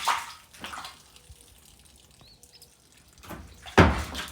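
Water being added to a backyard trout pond, with bursts of splashing and gushing at the start and again near the end, separated by quieter dripping and trickling, close and fairly loud, with no speech.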